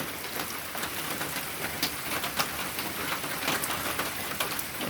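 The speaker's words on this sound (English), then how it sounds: "It's been raining since about 3 a.m." Steady rain falling in Missouri after an early-morning storm, a dense, even hiss of drops on surfaces with a few sharper patters, continuous and without voices.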